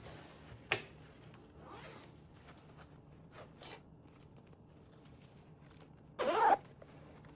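Zipper on a sewn convertible duffle bag panel, drawn in a few short separate pulls, with one longer, louder zip near the end, close and otherwise quiet.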